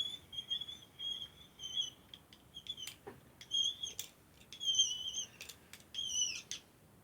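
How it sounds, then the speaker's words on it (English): A Makins clay extruder is cranked to push out polymer clay, giving repeated high squeaks and scraping creaks in an irregular rhythm over a soft hiss, close and fairly quiet. "This is a Makins extruder."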